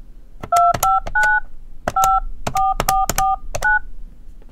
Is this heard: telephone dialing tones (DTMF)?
yes